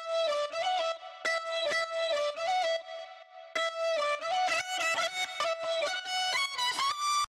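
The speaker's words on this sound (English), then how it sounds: "So this vocal chop is from the Euphoria vocal sample pack by Cymatics." A chopped vocal sample from the Cymatics Euphoria pack plays as a rapid, pitched melodic pattern of bright, clipped vocal syllables, loud and upfront, with a brief gap midway before it resumes.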